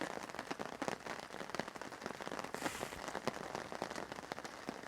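Heavy rain drumming on a Hilleberg Una tent under a tarp, a dense close patter of individual drops cracking sharply against the fabric in an uneven, continuous rhythm, with no voices.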